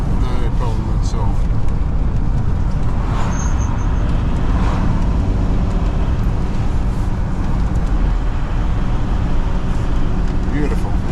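A VW T4 camper van with a 2.5 litre turbo diesel engine climbs a mountain road in Wales, giving a loud, continuous low engine drone with road and wind rumble throughout.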